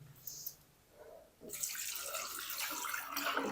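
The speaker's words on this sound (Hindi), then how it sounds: "और अब हम इसमें शामिल करेंगे पानी।" Water is poured into a kadhai holding potatoes for boiling, starting after a quiet moment with a sudden splashing gush that keeps running steadily to the end, fairly close.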